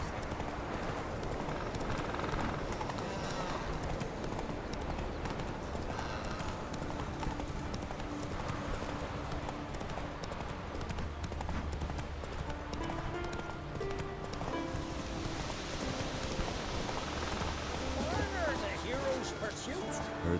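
Galloping hooves of the horse Roach in the video game The Witcher 3: Wild Hunt, a steady rapid clip-clop running throughout under game music and ambience, with spoken dialogue heard at times.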